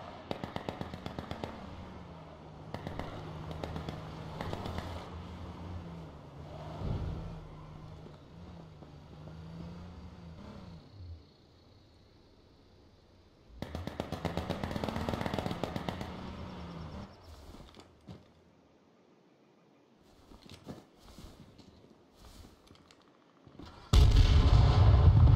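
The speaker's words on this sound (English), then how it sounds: "Do you hear that sniper go off?" Gunfire in the battle game H1Z1, with several loud bursts of shots and blasts spread across the stretch, separated by quieter gaps, and a sharp, loud report right at the end.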